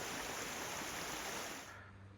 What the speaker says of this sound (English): Instead of a waterfall, we only found a stream.